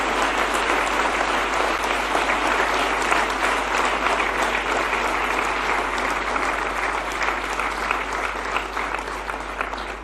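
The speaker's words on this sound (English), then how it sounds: "Ladies and gentlemen, let's applaud the Prime Minister for that" Large audience applauds steadily at a public event honoring the Prime Minister, a thick, even roar of many hands clapping that continues for ten seconds without a break, with a low hum underneath.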